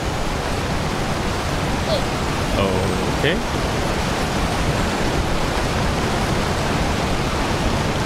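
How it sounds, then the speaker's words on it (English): Waterfall white noise in the video game Summer Catchers pours as a loud, constant rushing hiss for the whole stretch, with a brief quiet spoken word partway through. "Waterfall white noise, waterfall white noise."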